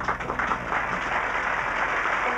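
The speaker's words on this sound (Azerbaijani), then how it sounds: "alqışlayın." Studio audience of a television play applauding in a steady, moderately loud wash of clapping that holds evenly without voices.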